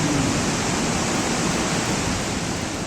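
Floodwater surges down from the mountains after a cloudburst in Himachal, a loud, steady broadband roar of rushing water that fills the whole span with no break and no voices.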